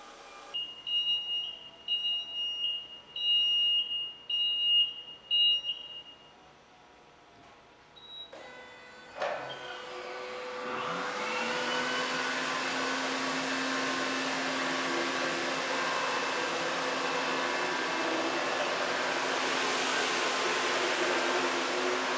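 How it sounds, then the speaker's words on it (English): A Hurricane 900 XTT 32-inch floor scrubber starts up after a few short beeps and then drives forward, settling into a steady, loud mechanical whir and hum that holds without a break. "based on the speed you've set your machine at, you will now move forward."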